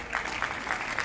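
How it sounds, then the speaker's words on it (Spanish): Audience applause at a conference on the value of life, a steady wash of clapping for just over a second, moderately loud and continuous. "fuerte el aplauso para él"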